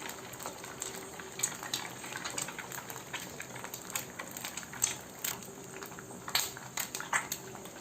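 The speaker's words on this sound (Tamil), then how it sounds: "நான் வந்து ஒரு 3 முட்டை உடைச்சி அந்த ஆயில்ல மிக்ஸ் பண்ணிக்கிறேன்." Eggs cracked into hot oil in a pan for a masala egg fry, giving a steady close sizzle dotted with sharp pops and crackles throughout, with no talking.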